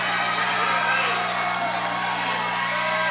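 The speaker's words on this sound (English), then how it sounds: "But this crowd is going crazy here" A fight crowd at an MMA event roars continuously with cheering and whoops, a dense, loud wash of voices with no break.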